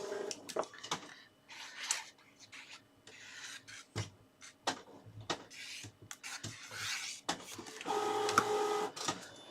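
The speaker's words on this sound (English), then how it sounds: "Sorry about the printer noise." A printer runs nearby in uneven bursts of mechanical whirring and clicking, with short pauses between passes and a louder stretch near the end.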